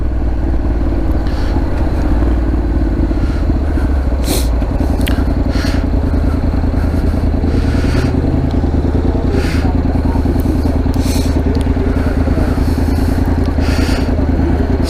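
Motorcycle engine with an aftermarket exhaust, idling or riding with a continuous deep rumble, loud and close, with occasional clattering and scraping bursts over the drone.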